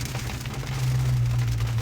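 Rain falls on a car lot during rainy, snowy weather, a steady broadband patter and hiss with a low idling hum beneath, close and continuous throughout.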